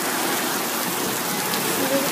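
Steady rain falls in a constant, even hiss of dense droplets, close and loud throughout with no pauses.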